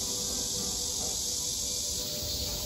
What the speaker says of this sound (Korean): 참매미들의 소리.